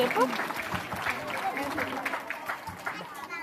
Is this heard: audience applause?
yes